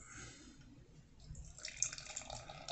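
Peach session sour ale pours into a glass: a quiet, bright fizzing trickle that swells after a soft start and keeps hissing to the end.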